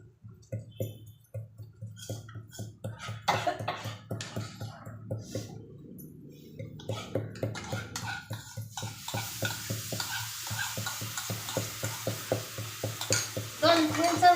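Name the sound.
yogurt added to chilies sizzling in a pan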